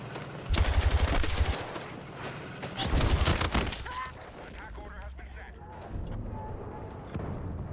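Heavy gunfire from a Battlefield 6 match, loud bursts of rapid shots landing in clusters with booming low thuds between them, mixed with someone talking over the action.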